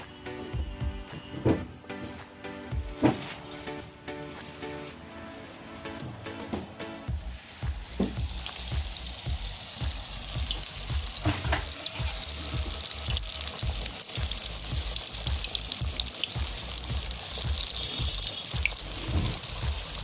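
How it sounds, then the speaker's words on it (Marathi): Taro leaf vadi slices frying in hot oil, a steady soft sizzle that builds and stays constant after the first seconds, quiet and close with no talk. "त्या तेलात टाकून तळून घ्यायच्या."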